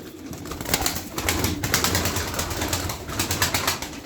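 Pigeons coo close by in a coop, soft throaty calls repeating over a constant murmur of birds, with occasional rustling.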